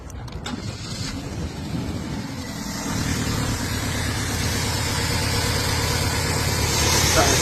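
A Vauxhall Astra engine with a misfire is started and runs, a steady, close idle with uneven low-frequency pulsing that grows slightly louder after a few seconds, with no talk over it.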